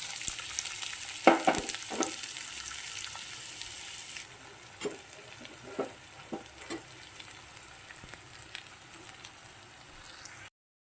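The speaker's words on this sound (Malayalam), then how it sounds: "എണ്ണ ചൂടായപ്പോൾ അരിഞ്ഞു വെച്ചിരിക്കുന്ന സവാള ചേർക്കണം." Sliced onions drop into hot oil in a kadai and sizzle steadily, with scattered stirring scrapes and pops over a continuous frying hiss, close and moderately loud, no talk.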